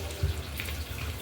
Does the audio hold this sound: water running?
yes